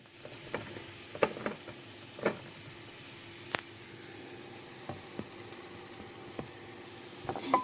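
Cauliflower fried rice sizzles softly in a pan after rice vinegar goes in, a faint constant hiss broken by scattered light clicks and pops from stirring, with no talking.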